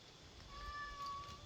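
A domestic cat indoors gives one drawn-out meow, moderately loud and close, over a low background rumble.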